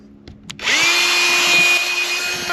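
A power tool spins up after a couple of light knocks and cuts into a cracked fiberglass tank, holding a loud, steady, high whine up close. No talking.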